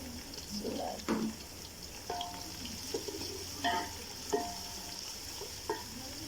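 Ginger garlic paste hits hot oil with browned onions in a pot, giving a steady close sizzle broken by a few louder bursts of stirring and spattering.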